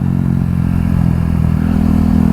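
A KTM 390 Duke motorcycle engine revs in a low gear, a loud, continuous mid-pitched drone with a slight clatter, heard close up and alone.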